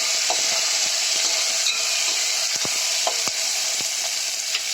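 Chopped tomato and asafoetida sautéing in a pan, a steady close sizzle throughout with occasional soft stirring clicks and scrapes.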